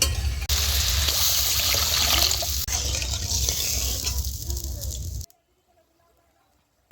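Water poured from a tap or jug into a pan of sitapati fish curry with eggplant makes a loud, steady rushing splash for about five seconds, then stops abruptly into near silence.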